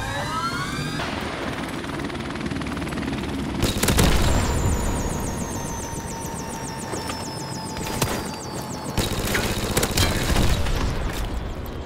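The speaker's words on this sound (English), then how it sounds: "Airstrike standing by." Call of Duty Modern Warfare Remastered airstrike: aircraft roaring overhead with a rising whine and heavy, sustained rumble, punctuated by loud bursts of explosions near the middle and end.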